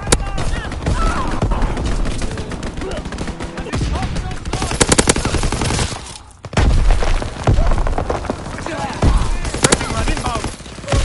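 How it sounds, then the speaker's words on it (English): Loud, sustained rattling machine-gun fire from an aircraft strafing run in a video game, dense bursts with a brief lull partway through, mixed with explosions and shouted radio voices. "Enemy strafing run inbound."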